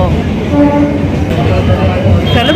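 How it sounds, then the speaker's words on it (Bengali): A passenger train pulls out from Garia station with a loud, close, continuous rumble of the carriages rolling along the track. Faint voices may sit under the noise. "গড়িয়া স্টেশন থেকে ট্রেনে উঠলাম"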